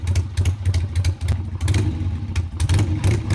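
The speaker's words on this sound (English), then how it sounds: "Harley Davidson tried to patent the sound of their motorcycles" A Harley-Davidson motorcycle engine revs repeatedly in a loud, close, throbbing low rumble, pulsing in short bursts of throttle with no talk over it.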